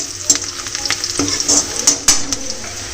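Tomatoes, onion and chili fry in hot oil in a home kitchen, a close, continuous sizzle broken by sharp scraping clicks as the pan is stirred.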